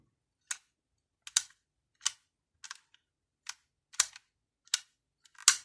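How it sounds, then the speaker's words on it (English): Sharp plastic clicks from the fire selector of an HK416D gel blaster being switched, about eight crisp, close clicks spaced irregularly over near silence. "you can hear an audible noise when it clicks into place"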